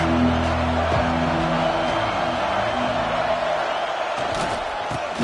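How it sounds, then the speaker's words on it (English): Football stadium crowd roaring as the home fans try to disrupt the offense, a loud, dense wall of noise throughout with some low droning tones underneath. "This crowd trying to make life miserable for this offense."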